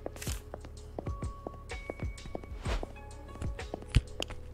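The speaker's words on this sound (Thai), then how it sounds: "นี่เป็นเสียงเท้าครับ" Footsteps from the horror video game Burnhouse Lane: a run of soft, close steps in an uneven rhythm, heard alone with faint ambient tones behind them.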